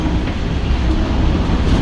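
A Mumbai train rolls steadily along the rails, a loud continuous rumble with faint rhythmic clatter and no voices.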